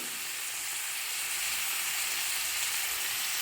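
Tomato and spices sizzle steadily in a hot pan while sprouted-bean gravy is cooked, a continuous close frying hiss with no voices.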